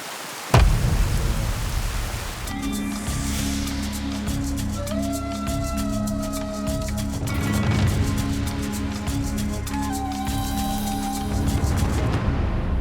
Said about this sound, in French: La pluie nous fait du bien en fait.